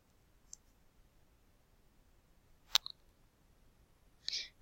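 A mouse button clicks to select Done in a Google Forms editor, a few faint, sharp isolated clicks at close range over quiet room noise, with no talking.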